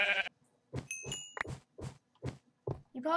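Several short sheep bleats from Minecraft come in a quick uneven series, clear and close, with brief gaps between each call.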